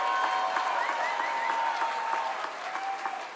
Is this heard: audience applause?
yes